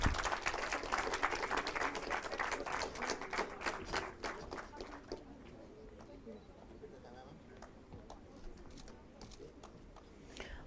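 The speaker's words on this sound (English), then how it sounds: "Can we have a round of applause, please?" Conference audience clapping, with dense applause that is loud at first and then thins into scattered claps, recorded from a distance.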